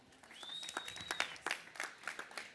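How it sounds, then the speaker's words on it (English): Audience applause for a panel at an agriculture innovation and finance event, a spread of scattered hand claps at moderate level with a faint tonal whine early on. "I would like to ask for a round of applause for our first panel"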